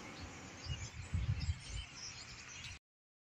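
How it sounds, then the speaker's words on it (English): Wild birds chirp outdoors near a shed. The calls are faint and distant over a soft steady background, with a few low thumps in the middle. "So we like bird watching. We watch the birds watch us."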